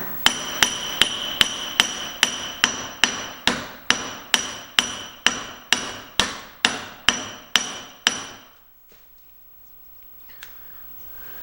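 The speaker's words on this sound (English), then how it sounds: "using a dead blow hammer" A dead blow hammer strikes transmission parts from a Homelite T12 in a steady series of about seventeen loud, evenly spaced blows, then stops, leaving near silence.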